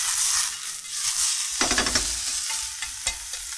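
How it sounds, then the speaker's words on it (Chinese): Ginger, chili strips and enoki mushrooms stir-fried in a hot wok, with a steady sizzle and a few louder bursts of stirring and scraping partway through, close up with no talk. "摆下之后呢，我们先爆香哈"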